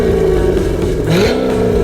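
A car engine revs loudly and close up, a thick sustained growl that dips and then climbs in pitch over less than two seconds, with no voices.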